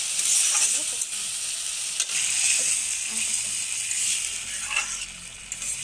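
Food frying in oil in a pan gives a steady, moderately loud sizzle, with occasional scraping and stirring knocks breaking through the hiss; nobody speaks.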